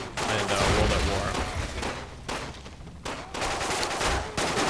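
Gunfire in the video game 007 Quantum of Solace comes as loud, dense bursts of rapid shots, broken by a couple of brief pauses.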